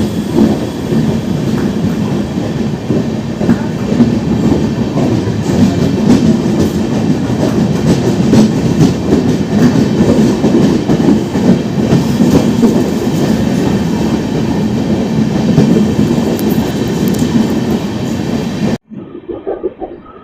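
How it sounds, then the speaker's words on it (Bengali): A 24-coach Amrit Bharat Express on its inaugural run pulls out of the platform and picks up speed. A loud, steady rumble with clattering wheels carries on for about nineteen seconds, then cuts off abruptly. "ছাড়ার সাথে সাথে একদম প্ল্যাটফর্ম 30 কিলোমিটার গতিবেগ ছুড়ে দিল। একদম ছাড়ার সাথে সাথে একদম গতি নিয়ে নিল।"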